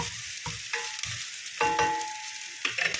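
Onion and garlic sauté in a pan with very little oil, with scattered spatula stirs and scrapes, close and fairly quiet, over a light crackling sizzle.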